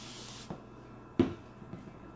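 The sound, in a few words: spray bottle spraying water onto a board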